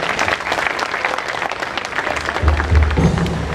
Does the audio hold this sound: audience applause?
yes